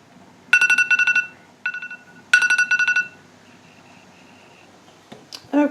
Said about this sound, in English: Put my phone timer on for an hour.